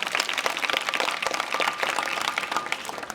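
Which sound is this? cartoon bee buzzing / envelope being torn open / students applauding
students applauding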